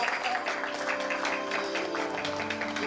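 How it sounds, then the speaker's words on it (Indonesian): Wedding guests at a hotel ceremony room clap together in a brief burst of applause, with music or voices carrying underneath at moderate volume. "Berikan tepuk tangan buat Tuhan"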